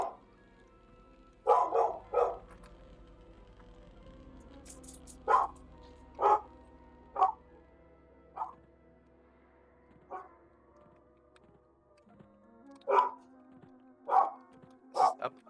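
In a video game, dogs bark again and again, single and double barks spaced a second or two apart, fairly close over a quiet background hum, with no talking.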